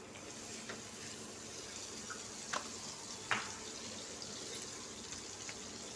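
Butter melting in a kadai gives a soft, steady sizzling hiss with a couple of faint pops, quiet and close, with no one speaking.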